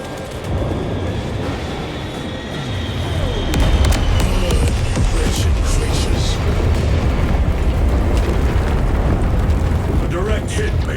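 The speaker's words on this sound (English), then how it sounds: "Airstrike incoming!" Airstrike explosions in Warhammer 40K: Space Marine 2, a dense sustained rumble of blasts and crashing debris that swells partway through, with voices shouting over the din.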